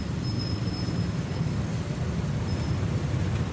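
Continuous low rumble of cars on a jammed road, a dense steady drone of engines with a faint high whine now and then, moderately loud throughout with no voices.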